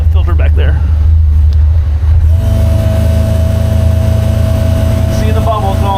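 A car engine runs at a steady, loud idle, a deep constant hum close to the microphone, with the tone shifting slightly partway through.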